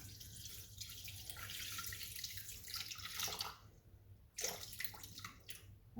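Lukewarm water runs in a steady, hissing stream into a Thermomix mixing bowl for several seconds, briefly stopping and then splashing again, close and fairly loud.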